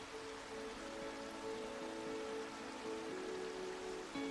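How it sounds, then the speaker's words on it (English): Steady broadband roar of the Bent River (Crow Mald) rushing through a small chasm below Beinn Odhar near Tyndrum, a constant wash of water noise with no break, heard from a grassy hillside path. "The roar of a river was unmistakable at this point."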